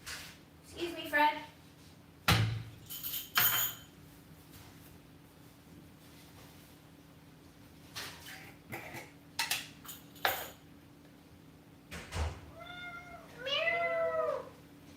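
A cat meows a few times indoors, with a clear drawn-out meow near the end and shorter calls earlier, mixed with clinking of dishes and cutlery during pet food preparation.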